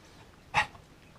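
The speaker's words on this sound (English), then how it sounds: "Sorry for my dog." A dog gives one short, sharp bark, loud and close, standing out alone against quiet background.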